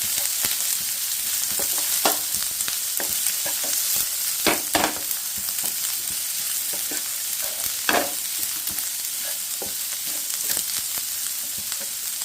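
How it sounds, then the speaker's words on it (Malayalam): Sliced onions sizzling in hot oil with fennel seeds, stirred now and then, with a steady bright crackle broken by sharp scraping strokes of the spoon against the pan. "അതിലേക്ക് നമ്മൾ അരിഞ്ഞു വെച്ചേക്കുന്ന സവോള നമ്മളിതിലേക്ക് ഇടുന്നു. ഇളക്കി കൊടുക്കണം."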